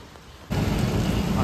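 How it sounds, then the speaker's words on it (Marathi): Rain falls outdoors; after a quiet half second, a loud, dense, steady hiss of rain begins and continues. "पाऊस आता सुरूच आहे।"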